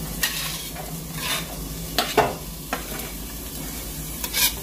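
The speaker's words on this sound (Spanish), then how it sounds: "Then we will cut the small onion and put it in the pan." A chopped small onion fries in oil in a pan with a steady close sizzle, and a utensil scrapes and stirs it several times in irregular strokes.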